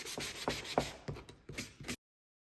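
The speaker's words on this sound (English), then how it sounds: "You must sand because that is the way that the stencil sticks best." Sandpaper worked over a painted wood sign rasps in short rhythmic strokes, about eight passes in two seconds, close and fairly loud, then stops abruptly.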